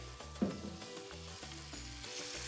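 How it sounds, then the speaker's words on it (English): Chicken browning in a hot skillet gives off a steady sizzle with a crackling burst near the start, heard alone at close range over faint background music. "I'm gonna let the chicken brown on the first side"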